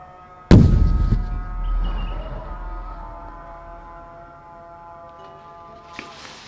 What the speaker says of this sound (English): I just heard a giant explosion.